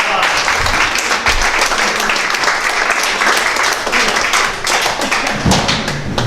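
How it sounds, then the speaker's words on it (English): A theatre audience at a live stage performance bursts into loud, sustained applause, a dense, steady patter of many hands clapping close by. "Give him a round of applause."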